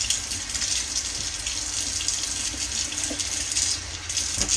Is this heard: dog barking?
no